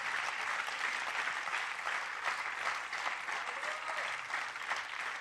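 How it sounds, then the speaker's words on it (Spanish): Steady, dense applause from a church congregation fills the room, sustained and even throughout without a break. "fuerte el aplauso al Señor"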